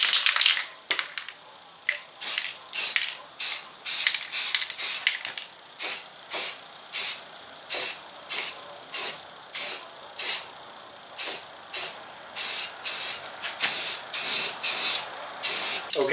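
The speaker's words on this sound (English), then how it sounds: "I'm going to go ahead and I'm going to hit it with my filler primer." Filler primer sprays onto a body panel of an MK4 Golf, loud hissing aerosol bursts repeated in a steady rhythm of short passes, close up with brief gaps between each spray.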